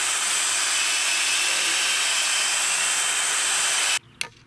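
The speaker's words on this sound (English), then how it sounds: "Drilling a 1/4 inch hole to accept the metal pin that is used to hold the H brace." A power drill bores a 1/4 inch hole for the metal pin of an H brace on a high-tensile electric fence, whining loudly and continuously before cutting off abruptly, followed by a brief clunk.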